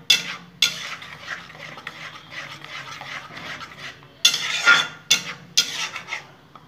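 A spoon scrapes and stirs prawn masala thick with cashew paste in a pan, producing repeated bursts of soft scraping with a few sharper clinks against the metal and brief quiet gaps between strokes.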